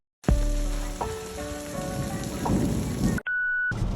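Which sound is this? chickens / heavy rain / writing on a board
heavy rain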